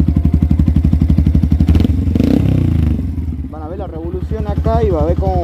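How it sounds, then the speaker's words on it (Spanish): A Yamaha FZ 2.0 FI motorcycle fitted with a Paolucci stage 2 exhaust idles with a loud, steady low burble, then briefly revs up and settles back, heard close with someone talking over it. "Así suena el caño."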